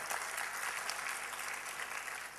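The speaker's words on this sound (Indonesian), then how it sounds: "Berikan tepuk tangan buat Allah kita." A church congregation claps in praise, producing dense, continuous applause that fills the room evenly from start to finish.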